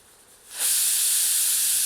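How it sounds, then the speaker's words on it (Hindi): A pressure cooker vents steam after cooking Kadaknath black chicken masala. A loud, steady hiss starts abruptly and continues unbroken to the end, with no voices. "और प्रेशर कुकर की भाप"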